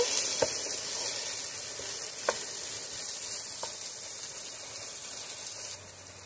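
Bitter gourd frying in a pan with turmeric, a steady bright sizzle and hiss throughout with a few soft knocks of a spatula stirring, close and constant.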